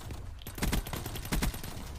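Rapid automatic gunfire from a Black Ops 3 shooter match, dense bursts of close, loud shots in quick succession with a couple of heavier volleys.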